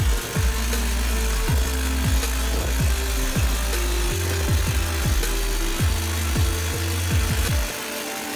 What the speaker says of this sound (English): Meet the FlexiROC T35, a high-powered drilling machine designed to penetrate the toughest terrains.